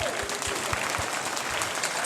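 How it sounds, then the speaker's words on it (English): Audience applause at a Chinatown Lions Club scholarship gala, steady dense clapping filling the whole stretch at moderate level, with faint voices underneath. "Give them another round of applause, everybody."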